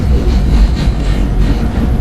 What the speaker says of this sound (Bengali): দেখতে পাচ্ছ ট্রেন কিন্তু চলতেছে।